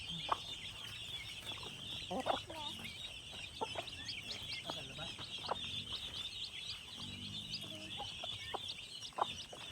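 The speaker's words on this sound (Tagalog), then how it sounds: "Dami nating sisiyo." Many chicks hatched on a small Philippine farm peep and chirp continuously, with clucking hens and a rooster mixed into the busy barnyard sound throughout.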